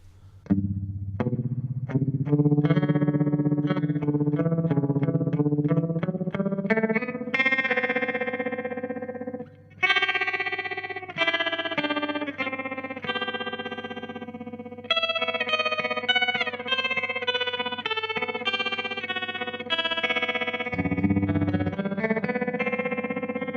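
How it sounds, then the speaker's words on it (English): Electric guitar notes run through a Hotone TREM tremolo pedal, chords and runs throbbing rhythmically with a distorted, shimmering modulated tone. "So it's almost no longer felt as a tremolo pedal and has a really interesting effect."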